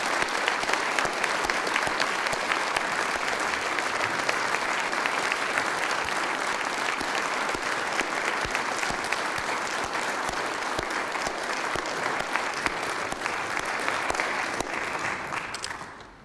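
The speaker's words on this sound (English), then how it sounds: "please join me in applauding these 20 wonderful British Columbians who so richly deserve the honor." Sustained audience applause at the 2017 BC Achievement Awards ceremony honouring twenty recipients, a dense, even wash of clapping that holds steady throughout before fading away at the very end.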